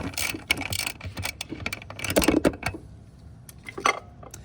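Ratchet wrench turning a 12 mm nut on the master cylinder of a 3rd gen Toyota 4Runner during brake booster replacement, close-up clicking and metallic ratcheting in uneven bursts with small knocks of tool against metal.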